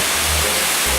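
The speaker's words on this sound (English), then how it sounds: "This is the first waterfall on the trail." A waterfall on a hiking trail in Boquete, Panama roars as a steady, close, dense rush of falling water with no pauses.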